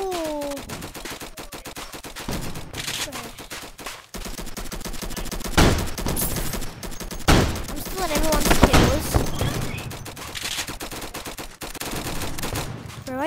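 Rapid bursts of gunfire from the video game Flag Wars, crackling in repeated volleys with a few louder shots standing out, mixed with game music and effects while a voice talks over the action.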